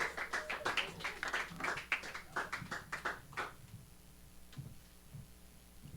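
Audience at a garden open mic event gives a burst of clapping for a performer. It is dense and lively for about three seconds, then thins to a few scattered claps and quiet room noise.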